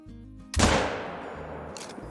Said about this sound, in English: there's two shots into him